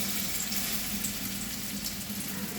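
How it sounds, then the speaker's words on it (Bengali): Battered pumpkin leaf fritters dropped into hot oil, a steady crackling sizzle of frying that holds evenly throughout, close and fairly quiet. "এই যে এবার আমরা তেলে ছেড়ে দিচ্ছি"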